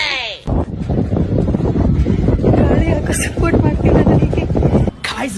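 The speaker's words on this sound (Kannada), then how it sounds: "ಗಾಳಿ ಕೋಪರೇಟೇ ಮಾಡ್ತಾ ಇಲ್ಲ" Strong outdoor wind buffets the microphone in heavy rumbling gusts through most of the recording, with a person talking under the roar.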